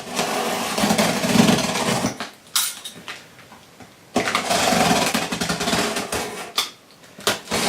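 A very sharp Mr. Cutty knife slicing through the cellotape on a Japan delivery box, two long rasping bursts of cutting and tearing cardboard with a short pause between them, close and fairly loud.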